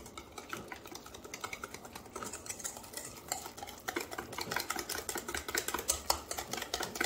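A utensil stirs red velvet cupcake batter in a bowl, giving continuous wet scraping and tapping against the sides that grows busier and louder toward the end, close up with no talking.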